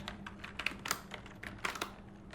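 Rapid, uneven clatter of keys on a computer keyboard while C program code is typed, close and clear, with bursts of keystrokes and brief pauses and no talking.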